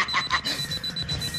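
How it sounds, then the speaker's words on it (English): A cartoon alarm rings in rapid repeating electronic pulses, shrill and close, sounding for a brief burst with a voice briefly overlapping at the start. "The alarm!"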